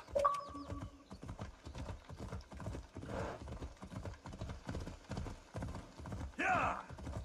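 A horse's hooves clip-clop at a steady trot in the video game Assassin's Creed Odyssey, an even rhythmic beat throughout, with a short whinny and someone talking over it at moments.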